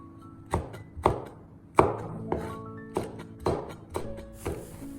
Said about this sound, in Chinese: 准备几个清洗干净的小米椒，去掉辣椒蒂，然后再切成斜刀片